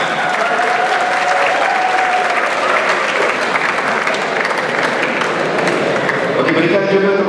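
Audience applause fills a Malaysian university forum hall, a dense, steady wash of clapping that holds loud and unbroken throughout, with some crowd voices mixed in beneath.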